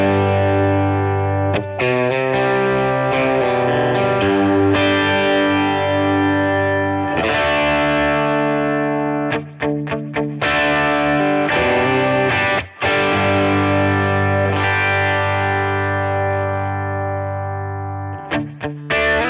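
Heavily overdriven electric guitar through an Origin Effects Deluxe 61 pedal playing sustained chords and riffs, thick and saturated with a chorus-like shimmer, loud and continuous with a few brief breaks.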